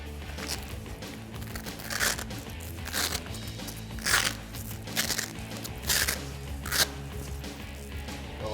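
A backing strip is peeled off a Velcro strip on a Jeep Wrangler JK 2-door Suntop cargo top, giving a series of short, crackling rips about once a second at moderate loudness.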